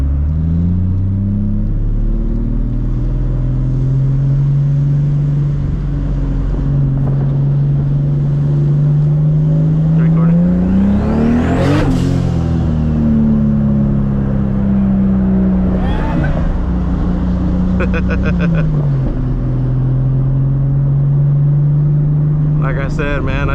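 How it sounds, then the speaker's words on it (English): A turbocharged Toyota Supra MKIV engine revs loudly at night, with a steady idle rumble rising into a sharp rev near the middle and falling back, then further shorter blips. "Rev it."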